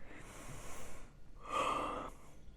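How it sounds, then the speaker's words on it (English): A long, breathy yawn from a person, an airy drawn-out inhale swelling into a louder open-throated exhale, close and quiet with no talk over it. "Okay, I feel sleepy. I'm yawning."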